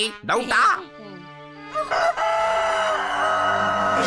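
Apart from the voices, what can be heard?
rooster crowing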